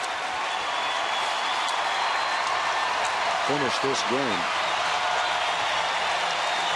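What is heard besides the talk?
baseball stadium crowd standing and applauding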